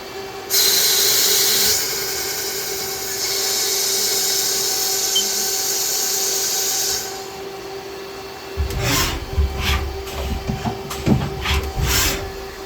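A metal lathe skims the front face and then makes a diameter cut on a metal part, giving a steady high whine and hiss for several seconds before louder, uneven scraping and clunking bursts toward the end.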